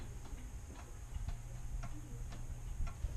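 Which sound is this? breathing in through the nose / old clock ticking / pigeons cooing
old clock ticking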